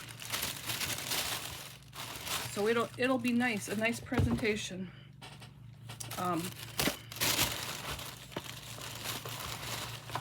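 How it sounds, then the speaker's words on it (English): Tissue paper crinkles and rustles as it is tucked into a box lined with cardstock, the papery crackle running steadily through most of the stretch while someone talks over it. "I'm putting some tissue paper in here."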